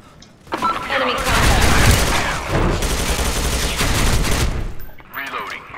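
Heavy, dense gunfire from CS:GO firing sustained and loud for several seconds, with crackling bursts and booms piled together, then tapering off as a voice speaks briefly at the end.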